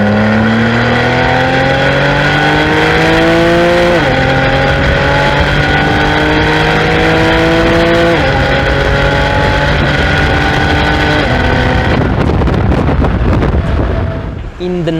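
A high-revving naturally aspirated Porsche 911 991.1 Carrera 4S engine with PDK gearbox climbs through the gears in repeated rising pulls, each shift dropping the pitch before it screams upward again, loud and close.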